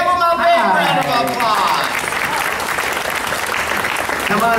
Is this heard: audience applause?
yes